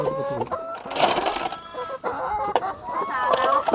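Hens gather round to be fed rice bran and rice, clucking and squawking in close, busy bursts with a few louder calls rising over the flock.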